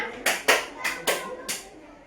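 Schoolchildren clap along to a counting chant in a primary classroom, five sharp, evenly spaced hand claps ringing out close and clear, with faint voices underneath.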